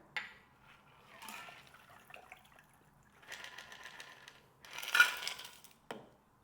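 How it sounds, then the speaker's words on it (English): A cocktail mixture is poured into a glass of ice, heard as several short, faint bursts of trickling liquid and clinking with quiet gaps between them. "We're going to add some ice to our glass. Pour in the mixture."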